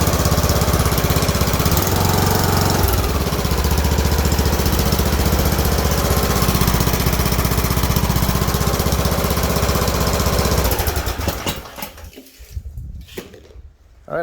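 A Craftsman riding mower engine with a newly replaced camshaft runs loud and steady with a constant low rumble for about ten seconds, then cuts off and sputters into near silence.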